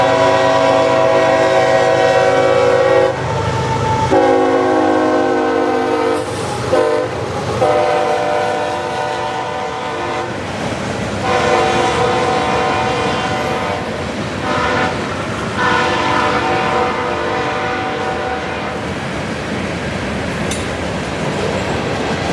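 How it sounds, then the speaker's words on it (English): Freight train M852 rolls past loud and close on track 1 as it diverts onto the Jessup subdivision, an SD40-3 dead in tow. Long horn blasts give way to a sustained rumble and clatter of cars. "852 is coming up on track 1 and diverting onto the Jessup subdivision to Waycross."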